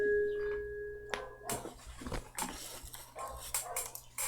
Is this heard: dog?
yes